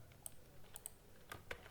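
Typing on a computer keyboard while entering a policy name in the AWS console: a short, uneven run of close, crisp key clicks with gaps between strokes, at low level and without voices.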